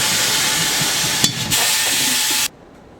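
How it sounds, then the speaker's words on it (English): A foot pedal sets a tire changer machine's turntable spinning as a tire is worked off its rim, giving a steady, loud pneumatic hiss and whir with a brief clunk midway, which cuts off sharply near the end. "Depressing the same pedal activates the turntable."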